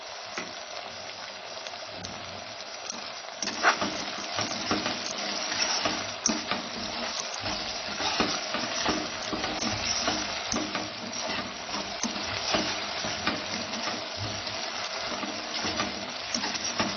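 Salted onions fry steadily in a pan on a medium flame, a continuous close sizzle and crackle with occasional stirring scrapes, for tandoori chicken biryani.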